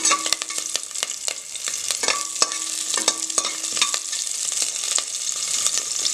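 Green chillies splutter in hot ghee with cinnamon and cardamom, a close, busy sizzle full of rapid sharp pops and crackles that runs steadily throughout.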